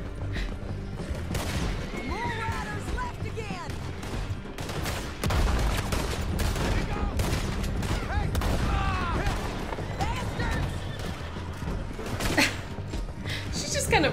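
Repeated gunshots crack from a Red Dead Redemption 2 shootout, loud bursts scattered through the scene amid game sounds, while a player talks over them.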